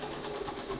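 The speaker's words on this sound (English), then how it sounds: "so let's sew this one" A sewing machine runs steadily as it stitches a 90-degree seam in pojagi-inspired patchwork curtain pieces, giving a close, continuous mechanical hum over a brief moment.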